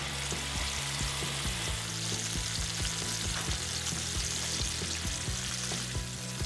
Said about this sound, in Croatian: Meso ću zatim ispeći i to na istom ulju na kojem se prepekla slanina.